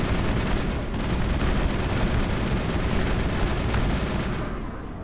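A firefight in the video game Mass Effect, with dense continuous gunfire rattling loud and close throughout, easing slightly near the end.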